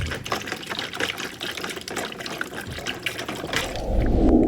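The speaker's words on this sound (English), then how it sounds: "Let's fill this up part way with just water." Container being filled part way with plain water for soaking geodes, continuous splashing and trickling that deepens into a heavier pour near the end.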